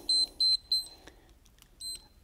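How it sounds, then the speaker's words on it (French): A workout interval timer gives three short, bright electronic beeps in a quick even rhythm, then falls quiet except for faint taps before one softer beep near the end. "Je remets le bip."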